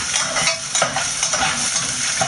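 Canned stew sizzling and bubbling in a pan while being stirred, a steady close frying hiss with soft scraping strokes and no talk.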